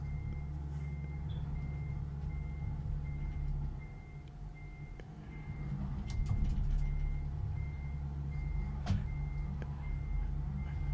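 A truck's reversing alarm beeps steadily and evenly over the low idle of a diesel engine, with a few brief clanks and air hisses partway through.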